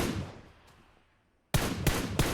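Gunfire in the mobile battle-royale game PUBG Mobile: after a fading, quiet stretch, a sudden loud burst of shots starts, with three sharp reports in quick succession over sustained noise.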